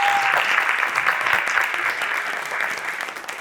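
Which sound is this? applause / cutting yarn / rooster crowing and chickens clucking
applause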